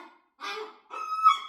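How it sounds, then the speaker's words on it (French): A seagull calls from an open window with two harsh, nasal squawks separated by a short pause, close and fairly loud, with the second call drawn out and more tonal. "J'ai un goéland sur ma fenêtre, Apollon il est là"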